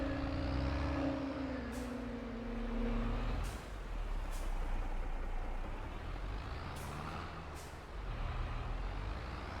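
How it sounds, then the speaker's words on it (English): Road traffic in Farming Simulator 22, with truck engines rumbling and several sharp air brake hisses in short bursts, steady engine drone underneath, no talking. "this traffic, seriously"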